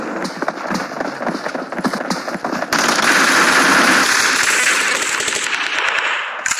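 Gunfire in the video game PUBG at Pochinki, rapid bursts of shots crackling through a busy mix, growing denser and louder midway.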